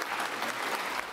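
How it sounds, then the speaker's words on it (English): Brief applause breaks out among people at an infected blood inquiry hearing in Cardiff, a dense, fairly soft patter of many hands. "there was applause"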